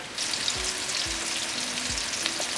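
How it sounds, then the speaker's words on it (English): Onions sautéing with salt in a pan for mutton dum biryani, a continuous close sizzle with a few soft low thumps from the pan, no voices. "saute your onions to avoid the onions from burning"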